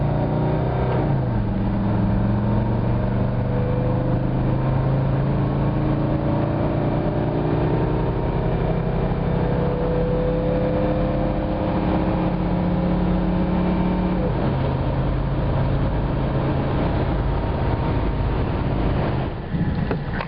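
A 1982 Mercedes-Benz 300D turbo diesel pulls out onto a highway and accelerates, its engine note rising steadily and then dropping at a gear change, with steady road and wind noise throughout.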